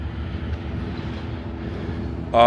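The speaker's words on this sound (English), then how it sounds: "And now this train is here that wasn't here before." A train rumbles past nearby with a low steady rolling drone, then a sharper, louder burst of higher noise breaks in at the very end.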